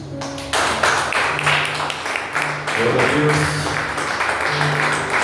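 A church congregation applauds in a steady, dense wash of clapping that runs the whole time, with a voice speaking over it.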